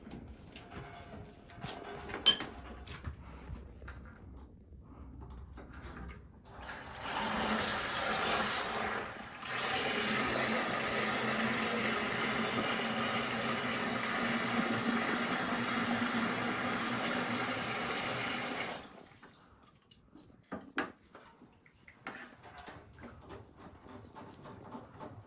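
Water rushes steadily through the bottom drain of an AO Smith gas water heater being flushed, a loud continuous hiss of about twelve seconds framed by quieter clanks and drips.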